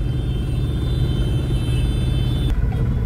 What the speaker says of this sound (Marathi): फुल ट्रॅफिक जाम आहे एकदम बघा.